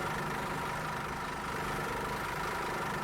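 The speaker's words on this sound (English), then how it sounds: "I want to keep the engine running to let it warm up, because we just pulled in from the garage." A bus engine idling in a bus driving simulator game, parked with the engine kept running to warm up: a steady, even low rumble with a continuous mid-range drone, unchanging throughout and with no talk over it.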